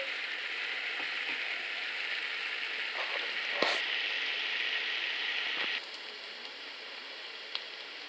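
Carrots and onion sizzle and sauté steadily in a crock pot for several seconds, with a brief scrape or clink partway through before the frying quietens slightly.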